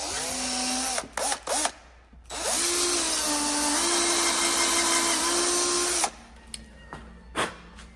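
A power drill bores freehand at an angle into a chair, whining loudly with a few short starts, then a long steady run of several seconds before stopping, followed by quieter handling knocks.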